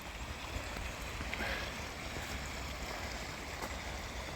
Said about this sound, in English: Creek still flows, swollen with the rains, melting snow.